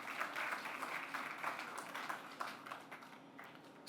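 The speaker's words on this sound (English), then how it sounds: "Please give them a round of applause." Audience applause at a ground-breaking ceremony for a housing project in Westmoreland, a steady patter of clapping from a moderately distant crowd that holds for several seconds without speech.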